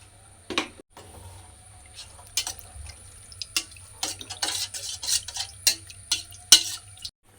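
Clams boil in a pot with turmeric and salt on a home kitchen stove, giving irregular bubbling pops and clicks over a low steady hum, fairly close and moderately loud.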